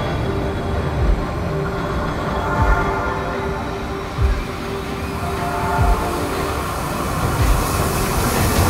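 Harz narrow-gauge railway train rumbling past close by, a continuous rolling roar with low thumps from the wheels over the track joints, steady throughout.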